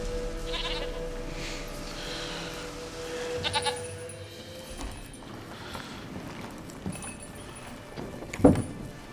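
A goat bleats in The Witcher 3 video game amid quiet ambient game sounds and soft footsteps, with a sharper bleat or cry standing out near the end.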